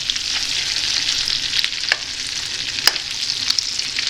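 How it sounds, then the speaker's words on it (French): Liège meatballs (Belgian boulets) fry in a pan with a steady, bright sizzle, and a spoon turns them, adding a few soft scraping knocks. No one speaks. "Après 4 minutes de cuisson, on va retourner les boulets délicatement avec une cuillère."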